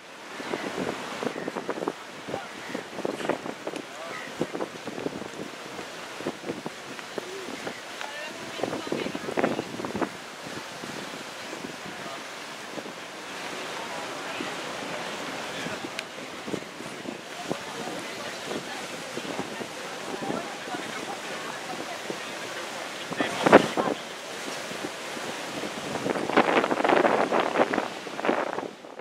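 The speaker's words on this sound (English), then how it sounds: "And here's one of the ferry boats, which I thought you'd enjoy." Sydney Harbour ferry boats and waves at Circular Quay make a steady, windy wash of water and engine rumble, continuous for the whole stretch with a few louder gusts and swells.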